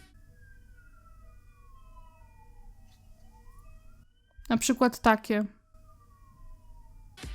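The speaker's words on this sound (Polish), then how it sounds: "Jak jedzie karetka" An ambulance siren wails in slow rising and falling sweeps at a distance, briefly interrupted by someone speaking before the wail continues.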